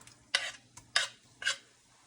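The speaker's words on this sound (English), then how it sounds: "First thing we're going to do, the garlic. Now it should make a nice little sound." Garlic in a pan gives three short bursts of crackling sizzle close by, each flaring up and fading quickly, with quiet pauses between them.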